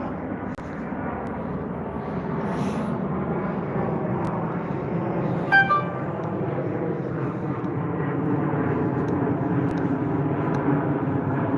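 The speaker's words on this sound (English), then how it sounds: "Sorry, plane coming." An airplane passes overhead near a cemetery at night, heard as a continuous droning rumble that holds steady and swells slightly toward the end, with a brief click in the middle.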